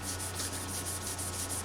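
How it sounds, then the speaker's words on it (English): A Scotch-Brite pad rubs back and forth over a lacquered carbon fiber guitar finish in quick, regular scuffing strokes, close but fairly quiet, over a low steady hum. "Here's a Scotch-Brite pad. That'll give us kind of a 320 grit feel."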